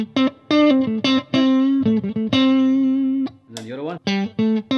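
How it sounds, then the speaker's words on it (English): An electric guitar plays short melodic phrases through a Bad Cat Cub 40R tube amp with an EF86 preamp tube, notes ringing with a warm, slightly driven tone, separated by brief pauses. "this is with the 86 preamp tube."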